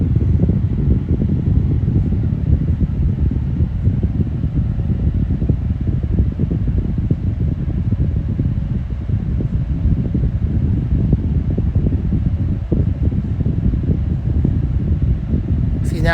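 A Holmes box fan runs on its high speed setting, a loud, close, steady whooshing hum of moving air that holds constant and unbroken throughout.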